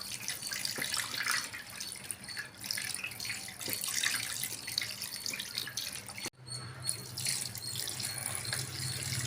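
Plain water poured into and mixed with freshly filtered paneer curds at home, a steady close splashing trickle with a brief break near the end before the flow resumes.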